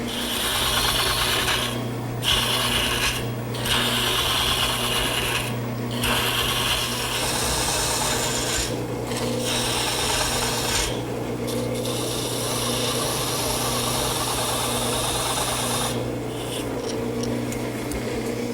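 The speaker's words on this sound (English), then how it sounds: "Now I'm going to turn to a small gouge and turn these cove areas." Small gouge cutting cove areas in chestnut on a wood lathe, a continuous raspy scraping with a spinning hum beneath, broken by several short pauses as the tool lifts off, close and steady.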